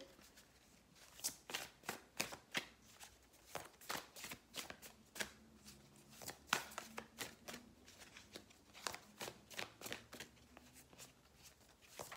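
Tarot cards shuffled by hand for a reading, a close, quiet run of rapid riffling and sliding bursts repeating in an uneven rhythm, with no voices.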